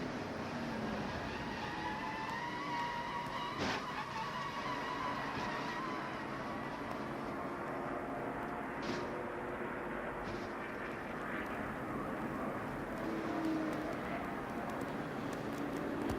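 A steady, continuous engine roar from inside Ernie Irvan's NASCAR stock car at Darlington Raceway, with a constant droning tone and occasional faint shifts, and no clear voices over it.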